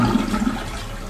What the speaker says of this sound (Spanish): para bajar el agua se usa solamente esta palanquita de acá al lado